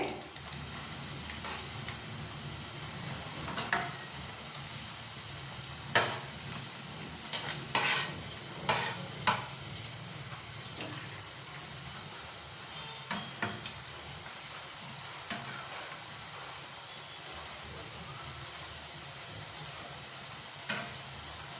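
Potato fingers fry in a pan with a constant sizzle, broken by a series of scraping, clattering knocks as the pieces are turned at irregular intervals throughout.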